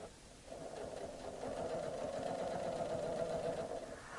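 A Janome Memory Craft 6500P sewing machine runs a steady stitching burst, its motor whirring loud and close for about four seconds after a brief quiet start, with no talk.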